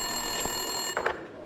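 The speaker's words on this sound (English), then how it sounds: "Winterson's phone was ringing." An office desk telephone rings in the video game Max Payne 2. A couple of short electronic ring bursts sit over a steady hum of game ambience and music.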